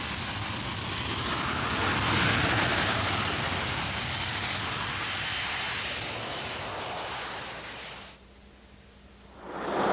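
An AV-8 Harrier jet in conventional wing-borne flight makes a loud, broad roar that swells and holds, drops away briefly near the end, then surges back.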